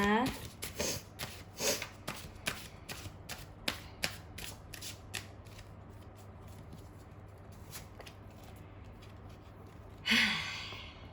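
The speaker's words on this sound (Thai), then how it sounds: "เดี๋ยวเราขอสับไพ่แป๊บหนึ่งนะคะ" Tarot cards being shuffled by hand for a reading, a run of quick crisp riffling bursts over the first five seconds, then quieter handling and a final rustle near the end, close and moderately loud.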